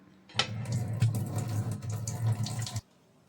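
Water splashes and pours steadily for a couple of seconds as it is drained off a pot of pork, close by, then stops abruptly.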